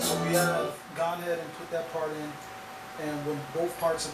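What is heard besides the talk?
No distinct noise like a dog, phone or traffic.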